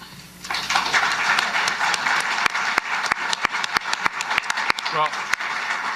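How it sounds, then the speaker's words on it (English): Applause at a press conference signing between a prime minister and a provincial premier, a few people clapping in sharp, distinct single claps that grow more regular, with light murmuring and room noise underneath. "To be clear, I was clapping for the Premier there."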